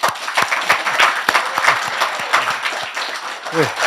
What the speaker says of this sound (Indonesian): Ramai banget tepuk tangannya.